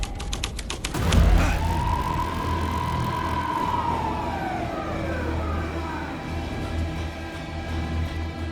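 A police car siren in the video game Alan Wake 2 wails in a long rise and fall, loud and close, over a steady low rumble, with a sharp thud near the start.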